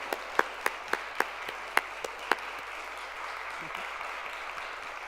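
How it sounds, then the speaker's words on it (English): Scattered clapping from an audience honoring front line workers, a handful of sharp individual claps in the first couple of seconds, then fading into room noise and faint murmuring. "we just want everybody to give a round of applause to everybody on the front line"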